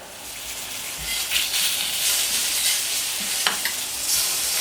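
Marinated Iberian pork pluma sizzles on a hot plancha, a steady close frying hiss with a few brief crackling spikes and no talking.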